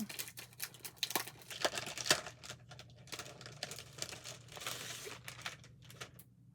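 Crinkly plastic packaging rustles and crackles as a Pokemon light-up toy is unpacked, with a steady run of close, irregular crinkles and small snaps throughout.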